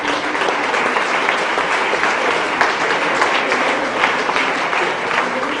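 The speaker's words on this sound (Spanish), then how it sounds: "Y os pediría un aplauso para ellos" Conference audience gives a sustained round of applause for four rapporteurs at a closing session, dense even clapping lasting several seconds without talk.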